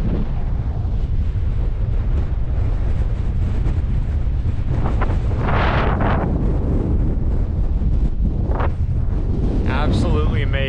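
Strong wind buffets a microphone high on a Welsh mountain. A loud, constant roar fills the whole clip, with gusty swells and rushes and no pause.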